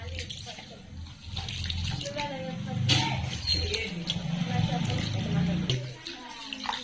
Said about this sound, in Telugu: నీట్గా కడిగేసుకుందాం బియ్యము